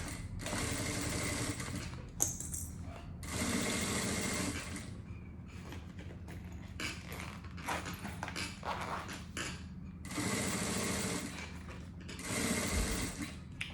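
A sewing machine stitches a zipper onto a cosmetic bag, running in several close, loud bursts of rapid whirring separated by short pauses and softer handling sounds.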